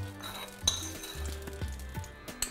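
Tadka stirred into ginger chutney in a bowl: close spoon clinks and taps against the dish, a few brighter knocks, with faint sizzle in the background.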